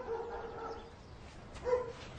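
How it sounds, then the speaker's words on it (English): A dog barks twice, faint and somewhat distant, with a short bark at the start and another near the end over quiet room noise. "That dog's distracting me."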